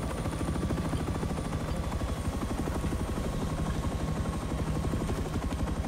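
A Rust attack helicopter thrums with steady, fast rotor chop, loud and close throughout without a break, no voices over it.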